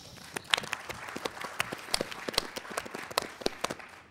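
Applause for the teams at a Texas middle school quiz show semifinal: scattered, fairly quiet clapping from a modest crowd, with individual sharp claps standing out and no talking over it.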